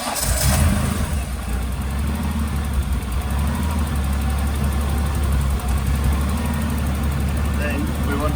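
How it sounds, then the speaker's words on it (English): A Holden VL Commodore engine cranks and catches, then settles into a steady, rumbling idle, heard close and continuous while someone talks over it. "We'll start the engine up, let it idle."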